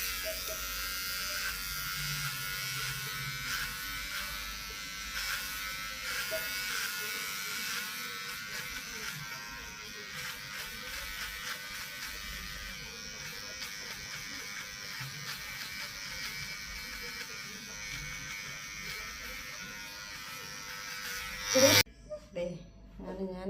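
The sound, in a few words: electric hair clipper cutting hair at home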